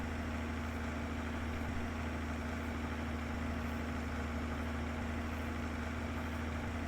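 Low, steady idle of a slow, cheap tractor engine in Farming Simulator 22, a constant droning hum with a faint whine, unchanging throughout and with no voices.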